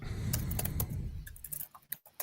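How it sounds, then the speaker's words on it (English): Rapid clicking of keys on a computer keyboard, fairly close, with a steady low background hum and a few quieter taps near the end. "I can hear your keyboard."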